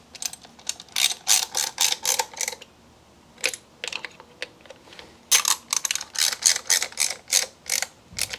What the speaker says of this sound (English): Now I can put back the screws.